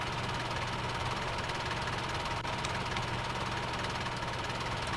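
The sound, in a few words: tractor engine revving in Farming Simulator 17 video game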